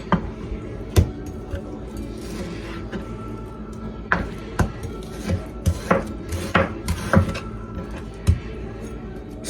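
A knife works through two large round steaks on a board, trimming and cutting them into small cubes. Sharp chopping knocks land at an uneven pace over a quiet background, with occasional louder clacks.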